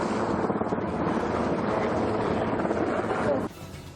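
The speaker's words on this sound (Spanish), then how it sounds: "Acabamos de encontrarnos con esta imagen impresionante de un helicóptero de salvamento marítimo." A sea rescue helicopter hovers low over a boat in the middle of an estuary, its dense, steady rotor roar filling the air loud and close before dropping off sharply near the end.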